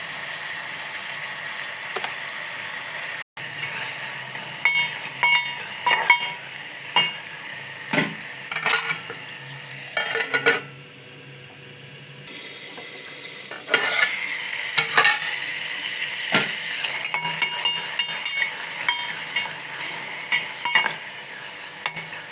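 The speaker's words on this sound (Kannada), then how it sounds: "ಈರುಳ್ಳಿ ಹಾಕಿದರೆ ಜಲ್ದಿ ಫ್ರೈ ಆಗುತ್ತೆ" Onions frying and being stirred in a pan for a dish of cluster beans, with a steady sizzle broken by repeated scraping and clinking strokes of a spatula, close and fairly loud, with no talk.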